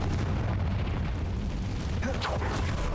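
A Confringo fire spell bursts in Hogwarts Legacy as a heavy, loud explosive roar that fills the whole moment, with a whooshing flare toward the end.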